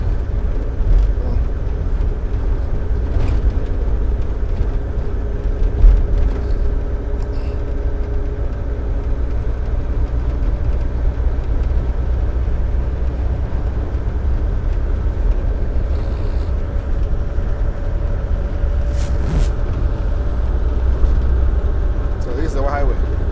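An empty dump truck on a quarry run cruises at highway speed limit, its engine and road noise a steady low rumble throughout, with faint passing sounds over the drone.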